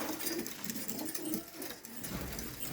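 Soft, low pigeon coos repeat in a loose rhythm, faint and somewhat distant, over a hissy background.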